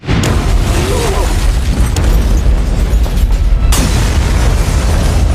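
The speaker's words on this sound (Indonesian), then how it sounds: "Ledakan pun terjadi." A loud, heavy film explosion erupts into a sustained roaring rumble with crackling debris, a second sharp burst cutting through partway.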